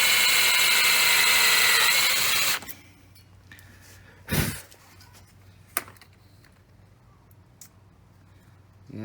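A drill bores plastic out of holes in metal on the rear driveline of a Dodge Ram 2500 6.7 diesel: a loud, steady close-up whine for about two and a half seconds, then it cuts off, leaving quieter handling noise and a few sharp clicks.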